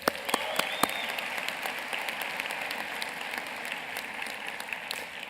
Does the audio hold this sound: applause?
yes